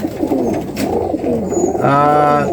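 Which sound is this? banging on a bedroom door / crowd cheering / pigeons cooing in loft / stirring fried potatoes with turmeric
pigeons cooing in loft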